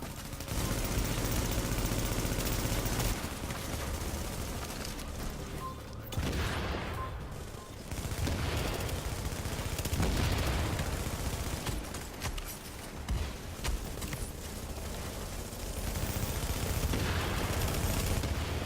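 Video game gunfire comes as dense, loud, sustained bursts of automatic shots and booms, nearly continuous with brief lulls.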